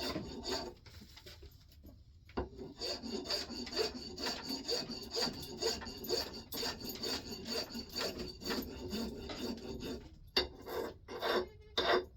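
A coarse half-round file rasping back and forth across a wooden axe handle in steady repeated strokes, close up, with a short pause early on.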